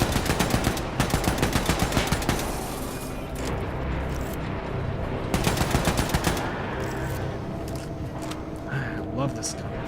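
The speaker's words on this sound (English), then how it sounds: "you can just tap fire and it still does so much damage" Rapid bursts of automatic gunfire from a gun in Wolfenstein: The New Colossus, loud and close, firing in tapped clusters amid the game's clatter and background sounds, with someone talking over parts of it.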